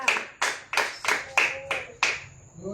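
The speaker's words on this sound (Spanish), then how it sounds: "alguien que aplauda al Señor, que le dé ofrenda de palmas al Señor" A church congregation clapping in praise, six or so sharp rhythmic bursts of massed applause at a steady beat, close and loud with no talk over it.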